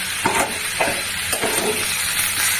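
A vegetable dish being stir-fried down in a pan: a continuous close sizzle broken by a few scraping strokes of a spatula against the pan, with no talking.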